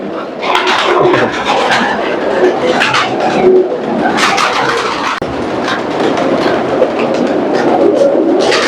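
Pigeons coo and flutter amid a busy, noisy backdrop with steady rumbling and clattering throughout.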